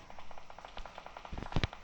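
Rapid bursts of PUBG gunfire, a quick run of evenly spaced shots followed by a few heavier, louder blasts, heard close with no talking.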